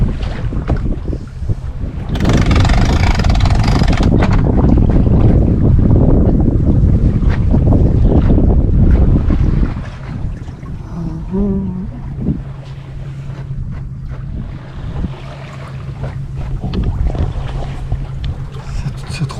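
Sailboat under sail off the Balearic Islands, with loud wind rushing across the microphone and water noise for about ten seconds, then a calmer stretch with a steady low hum and soft water sounds.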